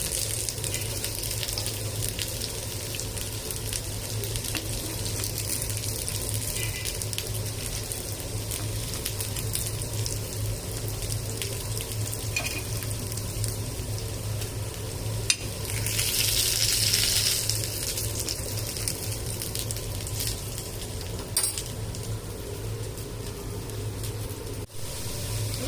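Potato bonda frying in hot oil, a steady low bubbling sizzle throughout with a brief louder burst midway and a few faint clinks, close, no talking.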